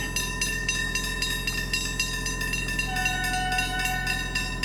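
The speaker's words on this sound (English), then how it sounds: "there's another train" A V/Line VLocity train rumbles steadily nearby, a continuous mechanical drone with rhythmic clatter and sustained high tones.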